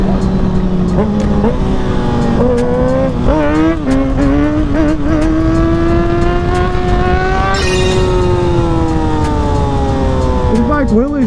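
A 600cc supersport motorcycle engine screams at high revs during a wheelie, pitch climbing through repeated throttle blips and shifts, loud and close with wind rush and a rider's voice now and then.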